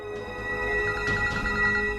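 A phone rings with a soft electronic ringtone over a low background hum, the melodic tone repeating through the short stretch.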